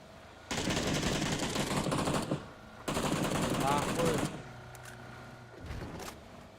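Automatic gunfire in the PUBG video game comes in two loud, sustained bursts of rapid shots, each lasting over a second, separated by a short pause and followed by fainter clatter.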